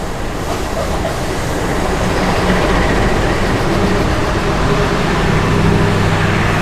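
Steady, loud rumble and rushing noise of a Gajayana luxury sleeper passenger train in motion, heard from inside as one continuous roar with no breaks and no voices.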